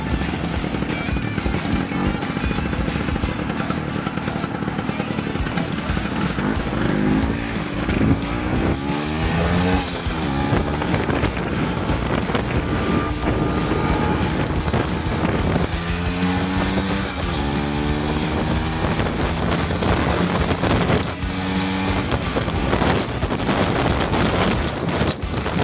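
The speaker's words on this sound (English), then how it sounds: "I think when neighbors hear this, they want to get upset because it sounds like a dirt bike." A 150cc two-stroke scooter engine buzzes continuously while riding through a village construction site, its raspy dirt-bike-like tone rising and falling with throttle under heavy wind noise across the whole stretch.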